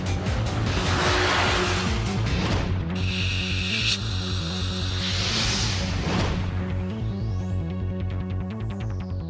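A high-revving Honda NSX V6 engine in Gran Turismo wails through rising and falling revs up to 9,000 RPM, with a brief screech of tires partway through.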